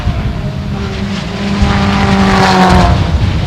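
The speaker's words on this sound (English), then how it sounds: "Cars coming down the front straight there." Race cars, including a Honda S2000, roar down the front straight of a track, engines droning and building as they pass close by.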